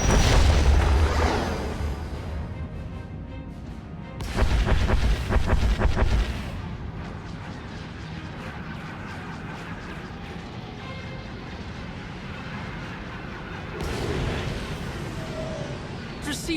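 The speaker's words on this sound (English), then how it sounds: "Proceeding with bombardment." Deep explosions boom during a starship bombardment in the SWTOR game, a heavy opening blast and another rumbling burst a few seconds later, then a softer one near the end over a continuous low rumbling ambience.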